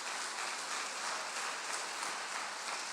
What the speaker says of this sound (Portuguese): Bota as palmas para o Senhor